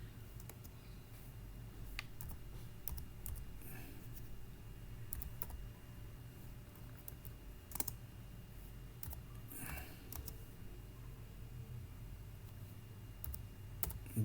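Quiet typing on a computer keyboard, with irregular light key clicks and occasional sharper taps scattered over a low steady background hum, no voices.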